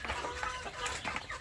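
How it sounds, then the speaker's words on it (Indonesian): Several free-range Indonesian village chickens cluck softly close by in an outdoor pen, with short overlapping calls over a steady outdoor background. "ayam kampung saya yang ada di tempat umbaran ini"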